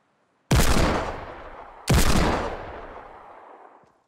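Two loud, close Deagle hand cannon shots in Fortnite, each a sharp crack followed by a long decaying tail, the second about one and a half seconds after the first.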